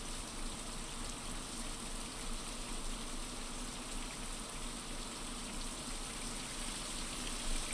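Steady rain in the video game Survival: Fountain of Youth, a constant broadband hiss of falling water that holds evenly throughout with no voices.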